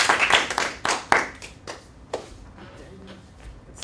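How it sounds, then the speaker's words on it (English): Applause from a live audience in a university performance class: a few sharp bursts of clapping up close, then thinning scattered claps that fade toward the end. "Round of applause."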